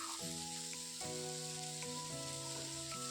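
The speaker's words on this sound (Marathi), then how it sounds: "कांदा भाजल्यानंतर यामध्ये मी दोन मोठ्या साईजचे पिकलेले टोमॅटोचे काप घातलेले आहेत तेही छान आपल्याला भाजून घ्यायचे आहेत" Two large ripe tomato slices fry with browned onion in a pan for a dhaba-style matar paneer gravy, a faint, even sizzle with a few soft stirring clicks.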